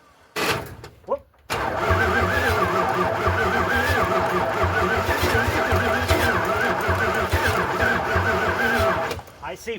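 A 1978 Dodge D-200 truck engine cranks briefly and catches, then runs steadily with a loud, rough mid-pitched idle that continues for several seconds before cutting off near the end.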